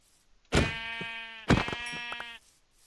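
Two loud, close sheep bleats from the video game Minecraft, one after the other, each a drawn-out wavering cry with no speech over them.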